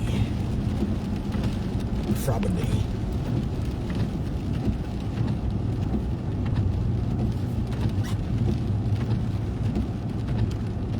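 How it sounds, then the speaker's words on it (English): Steady rain falling on a dreary day, a constant close hiss and patter with a faint rumble, no voices. "on a little rainy, dreary Friday."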